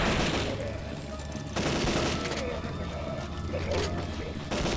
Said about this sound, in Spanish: Y vamos disparando ya de pie.